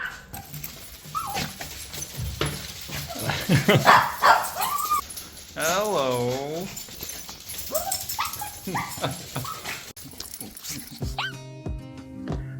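Several dogs greet their owner at home in Amsterdam with eager whimpers, high whines, yips and a few barks that rise and fall close by, while a person briefly talks.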